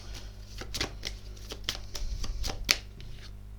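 Oracle cards shuffled by hand for a reading, giving a quick, steady patter of soft close card slaps over a low background hum.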